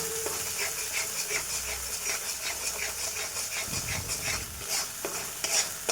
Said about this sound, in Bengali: কাজু পোস্তটা দিয়ে একটু নাড়ব।